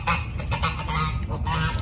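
A hen turkey in a backyard garden gives rough, honking calls in quick, uneven bursts, close and fairly loud, with no talking.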